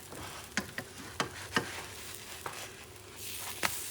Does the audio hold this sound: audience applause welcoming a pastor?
no